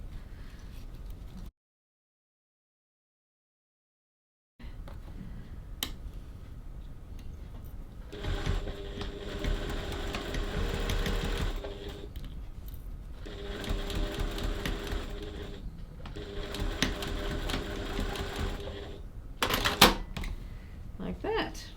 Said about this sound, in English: We have those two lining seams stitched